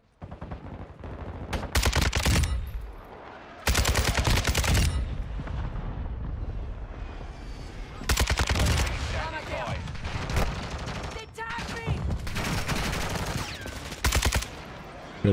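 Bursts of automatic gunfire from a friendly VTOL air support strike in the video game Modern Warfare 2, several loud sustained volleys separated by short gaps of quieter battlefield noise.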